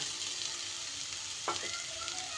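Ground lentil paste dropped into cabbage frying in a pan, a continuous soft sizzle with a brief wet splat and scrape partway through, close and fairly quiet.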